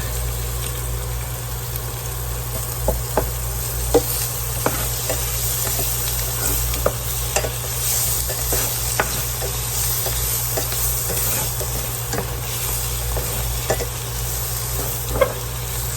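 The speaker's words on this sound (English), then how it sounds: "And put in the rest of my butter. And the rest of my garlic." Butter and garlic sizzling with steak on a hot plate in a small apartment kitchen: a steady, close frying hiss broken by scattered sharp pops and crackles.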